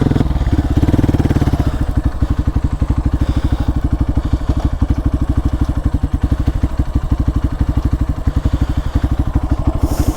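A 2022 Hero Xpulse 200 4-valve motorcycle idling close by, a steady rapid thumping beat that stays even throughout, loud, with no voices.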